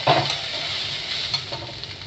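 Basmati rice frying in a pan with ginger while it is stirred, a steady close sizzle with the scrape and patter of the spoon moving through the grains.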